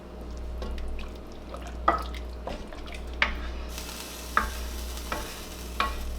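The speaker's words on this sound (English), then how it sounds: "we add a can of coconut milk" Gentle stirring and liquid splashes sound close up as canned organic coconut milk goes into a simmering soup, with soft regular clinks and drips over a low steady background.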